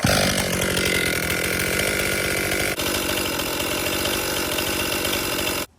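A Stihl MS261 MTronic chainsaw runs loud and close at a fast, steady, buzzing idle with a rough rattling pulse, a brief dip midway, then cuts off abruptly at the end.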